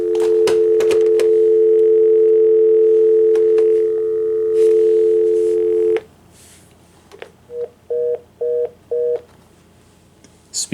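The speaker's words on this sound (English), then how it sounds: "You can hear we're getting a dial tone" An old landline telephone gives a steady, loud dial tone for several seconds after handling clicks, then goes quiet before a short run of evenly spaced keypad tones.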